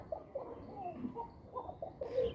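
Soft, low cooing from a ghia chandan pigeon repeats in short throaty phrases, fairly close, over a faint background hiss.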